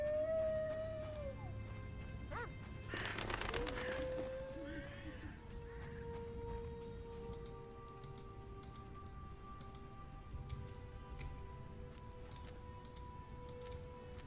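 A dog howls in The Witcher video game: two fairly faint, drawn-out rising howls in the first few seconds, heard over quiet game ambience.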